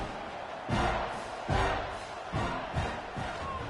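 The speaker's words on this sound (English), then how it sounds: "this crowd is buzzing after that last score" Stadium crowd in a college football video game buzzing after a touchdown and extra point, a steady broad roar with a few louder surges swelling up every second or so, no talk over it.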